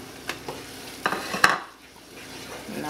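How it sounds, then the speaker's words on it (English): Fresh tomatoes are stirred in a cooking pot over a soft sizzle, with a few light scraping knocks of the utensil against the pot up close, then quieter simmering. "Now stir this."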